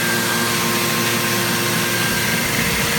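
A Baum Ultrafold 714 paper folding machine running 11x17 sheets, a loud steady mechanical whir and hum with a dense rattling texture, unbroken and close, with no talking.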